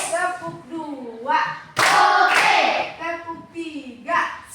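Hand claps in a classroom clapping game, a short burst of several quick, loud claps in the middle, with voices chanting and speaking before and after.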